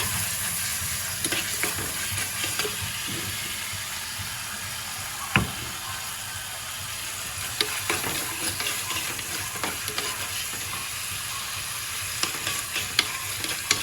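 Crushed ginger and garlic sauté in a hot pan for a sardine curry, a steady close sizzle with scraping stirs and occasional clinks running throughout, no talking.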